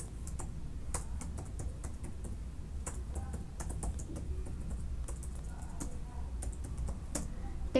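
Steady typing on a computer keyboard, a quick irregular stream of light clicking keystrokes, close and fairly quiet over a low background hum, with no talking.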